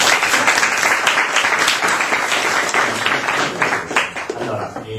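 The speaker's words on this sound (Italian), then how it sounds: "Un applauso di benvenuto al maestro." Welcoming applause from an Italian university audience at a law-degree event, steady and dense for about five seconds with a few voices murmuring underneath.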